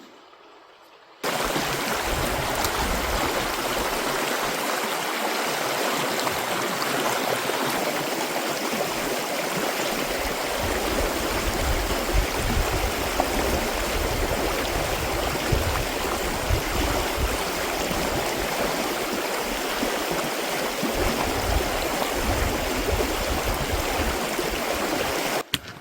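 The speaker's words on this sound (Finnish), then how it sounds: "Toihan on ihan pikkunen joki." A small river in a Finnish national park rushes steadily and loudly throughout, a continuous broadband wash of flowing water close by, with no voices.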